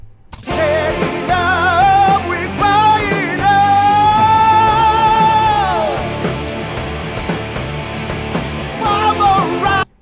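Music through a lo-fi cassette tape effect plugin on the master bus plays with a muffled, wobbly character, a sustained lead melody bending in pitch over a dull, compressed backing, fairly loud.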